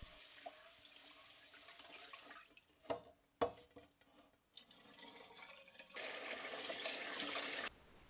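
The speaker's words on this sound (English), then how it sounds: "Wash it 3 times." 400 grams of jasmine rice being rinsed in water: a couple of soft splashes and knocks, then a steady louder rush of running water that stops abruptly, with no talking.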